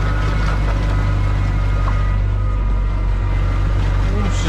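Four-wheel-drive dumper engine straining while reversing into a dung pile, a loud steady low droning rumble that fills the whole stretch.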